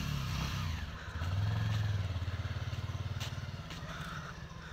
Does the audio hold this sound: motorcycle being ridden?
yes